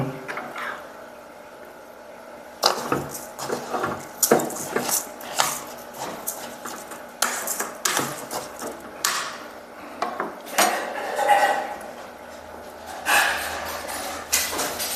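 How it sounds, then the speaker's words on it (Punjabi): Coarse sugar dry-roasting in a pan while being stirred for amla murabba syrup, giving repeated scraping and gritty rubbing strokes in irregular bursts, fairly close, with no talk. "ਹੁਣ ਆਪਾਂ ਇਹਨੂੰ ਭੁੰਨਣਾ ਹੈ ਜੀ ਥੋੜਾ ਜਿਹਾ"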